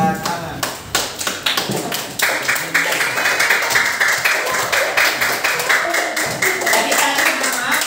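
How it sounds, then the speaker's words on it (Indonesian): Students in an Islamic religious education class clap together, a run of quick, close, sharp hand claps in a steady rhythm that continue for several seconds with voices faintly mixed in. "Oke, ini tepuk tangan buat Hamam"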